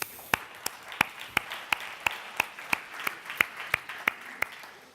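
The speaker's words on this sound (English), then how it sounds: "Another applause, please" Audience applause at a fintech startup pitch event, heard as steady, evenly spaced claps about three per second over a soft wash of crowd clapping, moderately loud and without talk.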